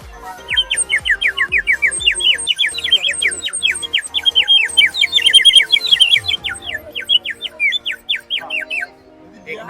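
A bird-shaped whistle at a flower show garden, blown to imitate birds: rapid, bright, repeated chirps and trills, loud and close, sounding for most of the clip.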